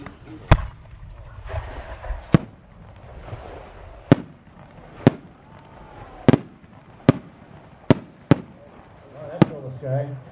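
Homemade fireworks go off in a series of sharp, loud bangs, about nine cracks spaced irregularly over ten seconds, with crowd chatter and voices in the background between blasts.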